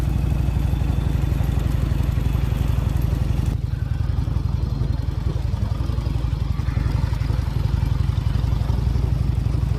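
Harley motorcycle rolling slowly at about 15 mph, its engine a steady loud low rumble with a loping beat that continues throughout, heard close from the rider's position.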